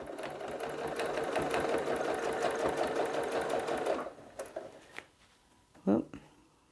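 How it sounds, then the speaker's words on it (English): A sewing machine stitches steadily and loudly while quilting with a ruler, its rapid needle rhythm running for about four seconds before stopping, followed by a few soft handling clicks and a brief louder bump near the end. "watch out for that needle bar that comes up and down."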